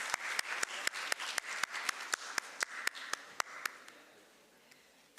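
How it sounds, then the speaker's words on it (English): A small audience at a youth entrepreneurship event claps at a steady, evenly spaced beat, a handful of crisp distinct claps from a modest group that thin out and fade toward the end. "A big round of applause."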